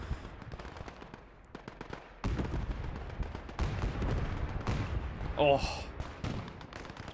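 Artillery batteries and machine guns fire through a Gates of Hell video game line-defense battle, booms and rattling bursts layered at moderate distance, with a man briefly exclaiming partway through.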